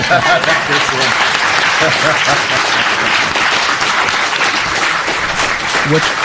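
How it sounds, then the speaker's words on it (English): A live audience at Oxonmoot applauds steadily and loudly throughout, dense clapping filling the whole stretch with a few voices mixed in. "I'm going to give that a round of applause."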